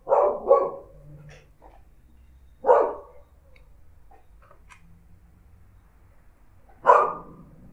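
A pet dog, angry at the neighbors, barks in three sharp bursts: a quick double bark, a single bark a couple of seconds later, then another after a long pause, fairly close against a quiet room hum.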